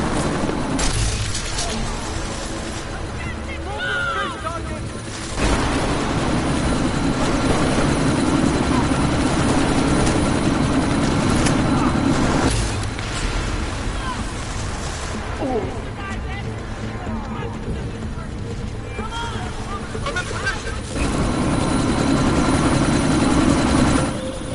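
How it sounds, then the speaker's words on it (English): A helicopter spins up for takeoff in the video game Deus Ex, its loud, steady rotor and engine roar filling the scene throughout, with brief bursts of other game sounds layered on top. "That chopper's about to take off!"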